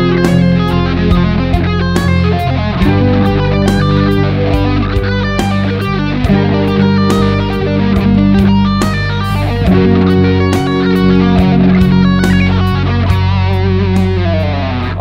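Rapid electric guitar sweep-picked arpeggios at an intermediate, second-level pace, played as continuous fast rolling runs through an effects unit with mild distortion, loud and steady for the whole passage with no talking.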